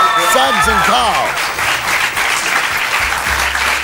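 A studio crowd gives a big round of applause for the band, loud and sustained, with a voice talking over the start before the clapping carries on alone.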